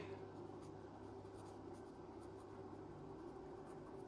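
A pen writes on paper in a short run of soft, close scratching strokes over a steady low hum, with no talk.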